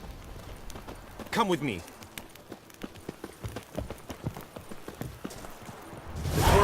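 Hooves of Roach, Geralt's horse in The Witcher video game, clop in a steady running rhythm, close and clear, under a man's brief spoken line and mixed with game ambience.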